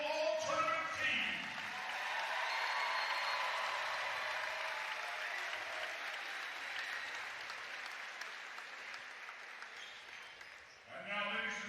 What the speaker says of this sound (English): let's hear one more round of applause for your 2025 South Central Regional All-Tournament team